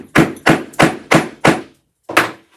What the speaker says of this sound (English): I'm just going to pound that snap into place.